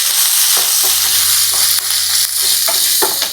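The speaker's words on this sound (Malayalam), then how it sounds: "ആ വെളുത്തുള്ളിയുടെയും ഇഞ്ചിയുടെയും ഒരു പച്ചച്ചുവ മാറുന്നത് വരെ ഒന്ന് ഇളക്കി കൊടുക്കുക" Long-cut garlic and ginger stirred while frying in oil: a loud, close, constant sizzle broken by repeated scraping strokes of the spoon.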